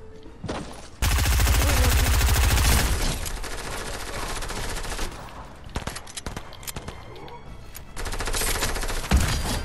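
Gunfire in the battle royale game Fortnite, with dense rapid bursts of automatic shots, loud and close, then scattered shots and a renewed burst near the end.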